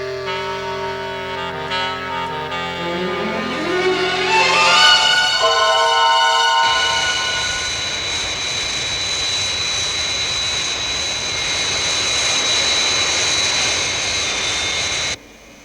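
Engines of the Fire Flash, a large airliner in Thunderbirds, after takeoff: a rising whine sweeps upward, then gives way to a loud, steady jet roar with high tonal whine that cuts off abruptly near the end.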